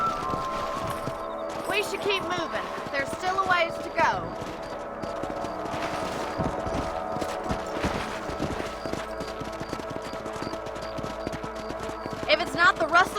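Horses gallop at a steady clip-clop in a Western frontier setting of the Red Dead Redemption video game, hoofbeats running continuously beneath talk and a musical score, with an occasional whinny.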